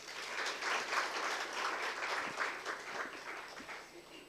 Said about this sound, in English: please welcome him to the conference with a huge round of applause